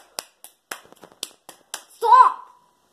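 Sharp hand claps ring out in a loose rhythm of about seven, close and bright, followed by a short burst of voice.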